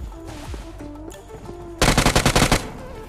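Gunfire in the mobile battle royale game BGMI: a loud automatic burst of about ten rapid shots near the end, following quieter game ambience and distant sounds.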